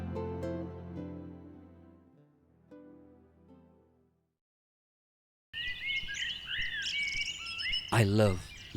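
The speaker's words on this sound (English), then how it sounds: "I love listening to birdsong, a meditative frequency of surround sound." Wild birds chirping outdoors on a winter day, with quick, bright calls and twittering trills that arrive after a brief silence, following a soft tonal passage that fades out.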